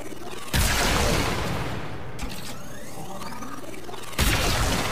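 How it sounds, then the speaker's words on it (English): Opticor Vandal energy rifle in Warframe charging a shot: loud crackling blasts open and close the sequence, with a thin rising electronic whine sweeping upward through the quieter middle. "You see how long it takes just to charge one shot."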